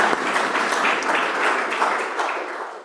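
Steady applause from a room full of people at a scientific workshop talk, a dense patter of clapping that holds evenly throughout without any voices.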